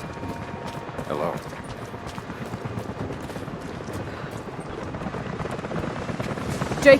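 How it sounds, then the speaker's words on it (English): Helicopters approaching in the action game Rise of the Tomb Raider, a low rotor rumble with rhythmic thumping under game sound effects and shouts, swelling toward a loud hit at the end. "Jacob, helicopters are headed your way."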